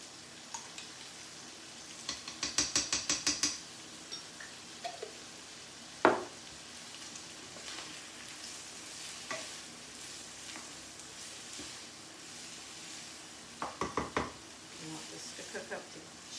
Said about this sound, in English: Cook up to just until those onions and peppers are starting to get a little bit tender.